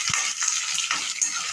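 Lemon-sized tamarind and chopped ginger fry in a pan with a constant close sizzle and hiss, broken by a few soft stirring scrapes and a low knock at the start.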